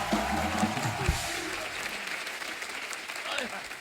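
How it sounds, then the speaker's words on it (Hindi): Studio audience on a comedy talk show applauding the arriving guests, a thick continuous wash of clapping with some voices and low rumble mixed in at the start. "जोरदार तालियां हो जाए हमारे मेहमानों के लिए"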